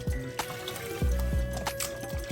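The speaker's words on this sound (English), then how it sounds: "And we're rinsing with warm water." Warm running water trickling and splashing in short bursts, close and fairly quiet, with small clunks as chitterlings are rinsed under the flow.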